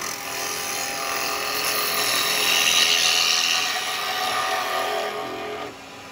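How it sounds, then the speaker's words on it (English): A bowl gouge cuts into a yew bowl spinning on a wood lathe, giving a continuous close whirring and scraping hiss with a steady high motor whine. The sound swells and eases slightly, then drops at the end. "Then with the bowl gouge, I'd probably get a bit better cut that way."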